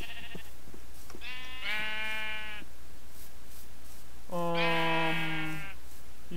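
Sheep in a video game bleat twice, two long harmonic calls separated by a pause, loud and clear over a low steady background hum.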